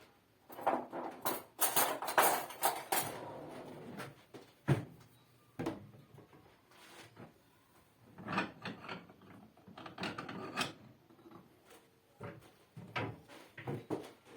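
A plate being picked up and handled in a home kitchen for serving güllaç: a series of close clinks, knocks and clatters of dishware, uneven and intermittent with quiet gaps between.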